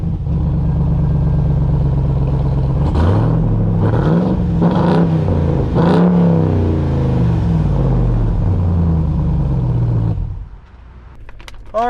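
A Ram TRX pickup with a 6.2-liter supercharged V8 Hellcat engine making 702 horsepower, accelerating hard with a loud, rising roar and several gear shifts, then backing off to near quiet at the end.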